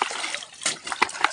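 Mud clams being washed by hand in water, with splashes and sloshing in short bursts close by and a few irregular louder splatters.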